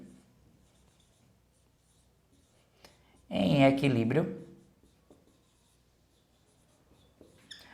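A marker or chalk scratches on a classroom board during a physics lesson, faint intermittent scraping with a brief burst of a person speaking partway through.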